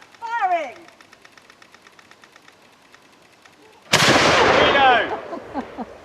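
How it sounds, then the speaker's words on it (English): A 6-pound cannon fires a single heavy boom, sudden and loud, with a rumbling decay after it. Shouting voices come before the blast and more voices follow. "Okay, so that's a 6-pound cannon."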